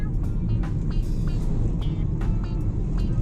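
Vehicles moving slowly along a mountain road in Nepal, giving a steady, close engine rumble with faint clicks and rattles, and no voices.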